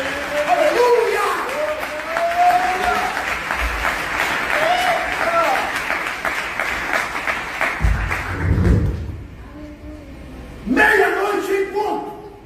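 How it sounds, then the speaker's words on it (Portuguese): A church congregation applauds and cheers during a pastor's sermon, a loud crowd of clapping and voices under continued preaching, dropping briefly before a final burst of shouting. "Dá para aplaudir o Senhor, por favor?"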